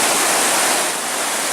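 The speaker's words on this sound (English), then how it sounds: "as you can hear, it's by a pretty good sized river." A good-sized, brownish river rushes beside a campsite on the Superior Hiking Trail, a loud, constant broadband roar of flowing water filling the scene with no voices.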